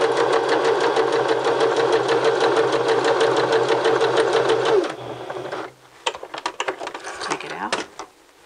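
A sewing machine runs a wide zigzag stitch with a steady, rapid mechanical chatter for about five seconds, then stops, followed by quieter clicks and handling noises.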